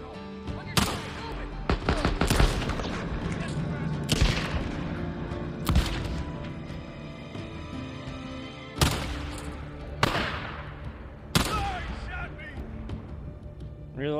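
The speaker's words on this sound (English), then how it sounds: "Heavy guns." Heavy gunfire rings out in the Days Gone video game, with repeated loud bursts and single sharp shots over a steady din of battle, while people talk throughout.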